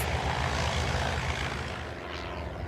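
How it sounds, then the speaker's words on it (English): A small propeller plane flies under a bridge, its engine a steady, loud droning hum that holds throughout and eases slightly toward the end. "Sure enough, they dove that small plane right through."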